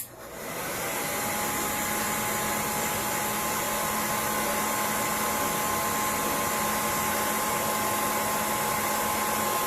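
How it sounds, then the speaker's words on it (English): A blow dryer set to warm and low blows a steady, loud, even rush of air with a faint motor whine, running without a break from start to end. "You take a blow dryer, you put it on warm and low"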